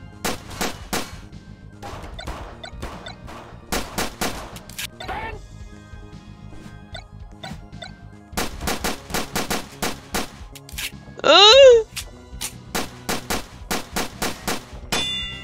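Retro pixel gun firing in the Roblox game Item Asylum, sharp electronic shots in rapid bursts separated by short pauses, with a bright rising zap near the end and game sounds underneath.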